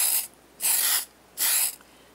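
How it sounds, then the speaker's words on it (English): Archival mist sprayed onto paper artist tape in two distinct hissing bursts, each just under half a second, close to the mic with quiet pauses between. "I'm going to go ahead and spray it with an archival mist, and that will make it pH neutral"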